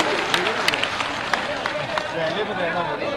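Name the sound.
crowd applauding at a political rally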